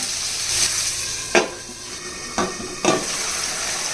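Onions frying in a pan for chicken curry, a steady close sizzle with a few sharp stirring scrapes, no voices.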